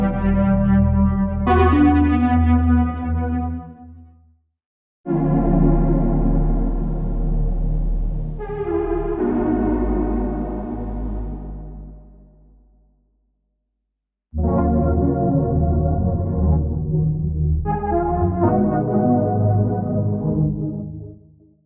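Sustained analog synthesizer chords play one after another, rich and buzzy, each swelling then fading out, with brief silences between phrases.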